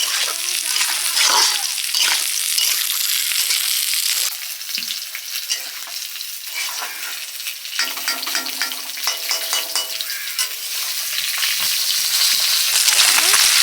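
Snakehead fish with green banana, ginger, garlic and onion paste sizzles steadily in a little oil as the curry is stirred and fried down, with a brief hiss from added water midway; the sizzle stays loud and close throughout.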